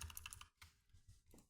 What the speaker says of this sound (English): Sorry for the noise my keyboard's making.